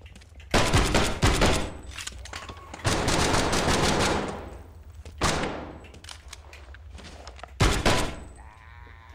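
Gunfire in the VR zombie shooter Death Horizon: Reloaded, loud close bursts of rapid shots in several volleys separated by short pauses, with little talk.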